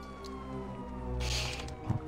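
Police car siren inside GTA V, a faint wavering wail sitting low under other game sounds for about two seconds, with a brief burst of noise near the middle.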